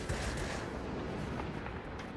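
Four 20mm aircraft cannons on a tier X Su-10 bomber in World of Warplanes fire in a loud, dense, unbroken burst that lasts the whole stretch, with no voices over it.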